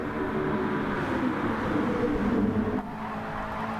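Race cars at Le Mans in the video game Gran Turismo Sport, a steady loud engine drone with a tire scrub from a car oversteering as its back end steps out, then a slight drop in the engine note near the end.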